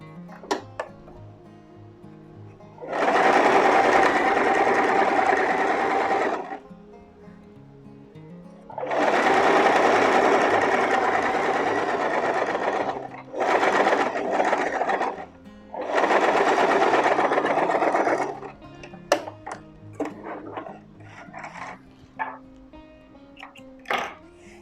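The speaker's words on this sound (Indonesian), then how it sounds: "kemudian kita jahit tindes dulu, ukurannya 1/4 inci atau 1 sepatu" A sewing machine topstitches a men's shirt collar a quarter inch from the edge, loud rapid whirring bursts in four separate runs of several seconds each, with quiet pauses and light clicks of handling between them.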